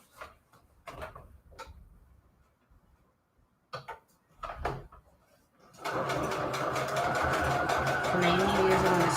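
A sewing machine runs a blanket stitch through book-page junk journal pockets, a steady whirring, rattling drone that starts partway through after a few scattered clicks and handling knocks.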